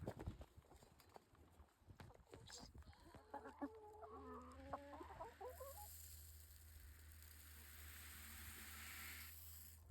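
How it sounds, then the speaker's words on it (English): Hens from a flock of 19 clucking in a short cluster on a homestead, mixed with scattered knocks and taps, then a steady hiss of background noise. "we do have 19 chickens"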